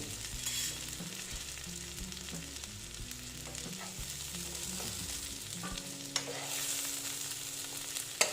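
Long beans fry with a steady close sizzle in a wok, with occasional stirring clinks and scrapes, no voices.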